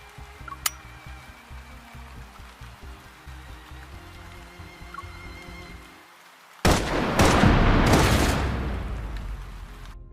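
Suppression gunfire in the game Love and Deepspace: a quiet, ticking stretch of low rumbles gives way, after a brief silence, to a loud burst of rapid shots and impacts that lingers and slowly fades.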